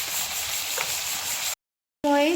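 Chicken meat fries in oil over a medium flame with a steady, even sizzle that stops abruptly partway through, followed by a short tonal sound with a voice-like quality.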